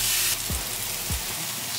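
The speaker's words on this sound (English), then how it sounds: "Get a nice sear going on that." A pot roast sears in a hot pan with a loud, steady sizzle, bright and close, and two short low thumps break through the hiss partway along.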